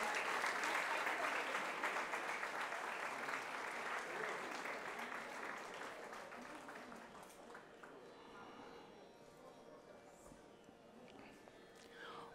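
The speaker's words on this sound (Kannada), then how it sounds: "ನೀವು ಎಷ್ಟು ಜೋರಾಗಿ ಚಪ್ಪಾಳೆ ಹೊಡೆದ್ರೆ ಅಷ್ಟು ಜೋರಾಗಿ ಅವರಿಗೆ ಅದು ತಲುಪುತ್ತೆ" An audience applauds at a Hindustani vocal music concert, a dense wash of clapping that starts full and gradually thins and fades, with faint voices beneath.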